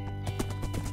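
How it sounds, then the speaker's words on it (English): Horse hooves running in Minecraft, a quick, even clip-clop of several close hoofbeats within a second over a steady game tone. "just running around in my horse."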